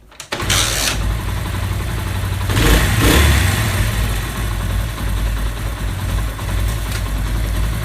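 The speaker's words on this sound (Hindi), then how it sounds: "तो चलिए मैं आप बाइक को स्टार्ट करता हूँ, आपको दिखाता हूँ कि कोई किसी किस्म की भी यहाँ पर मिसिंग नहीं करेगी।" A China 70 motorcycle engine kicks into life with a sharp start, then settles into a loud, steady, close-up idle with a brief rise in revs partway through.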